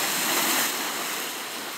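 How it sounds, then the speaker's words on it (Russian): Caribbean Sea surf rolls onto a rocky volcanic shore in Jamaica, a steady, loud, continuous wash of breaking water. "Это Карибское море."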